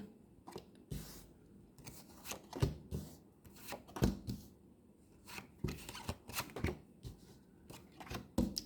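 A deck of tarot cards is shuffled close by, giving quiet, irregular bursts of riffling and sliding card noise with short pauses in between. No voice is heard.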